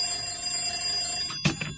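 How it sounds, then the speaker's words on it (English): An old telephone bell ringing unanswered in a house, heard as a steady tonal ring that swells into a couple of louder bursts near the end, with no one speaking over it. "Where's Hackett got to, not answering the phone?"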